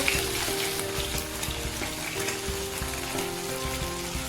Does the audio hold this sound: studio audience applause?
no